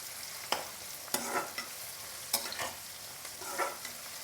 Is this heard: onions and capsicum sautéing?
yes